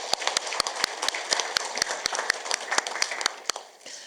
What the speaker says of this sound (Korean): 여기서 우리 서로가 애쓰셨다고 우리 자축의 박수 부탁드립니다.